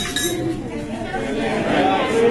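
Glasses clinking at a wedding reception as guests raise them for a toast to the bride, light chiming taps scattered through steady crowd chatter and talking voices.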